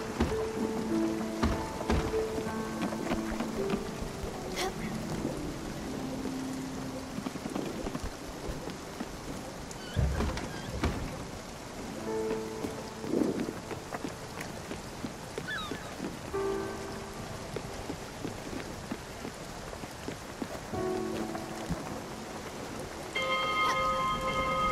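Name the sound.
rain falling in the video game Spiritfarer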